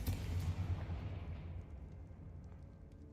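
A Confringo fire spell blast in the video game Hogwarts Legacy, one booming burst at the start that rolls off into a fading rumble, heard alone with no talking.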